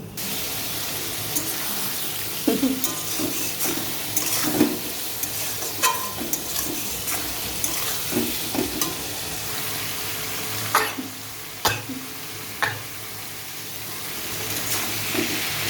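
A wok of dry red chillies and black cumin (nigella) sizzles in hot oil after prawns are fried, with steady crackling frying and intermittent spoon stirring and scraping, heard alone at moderate distance.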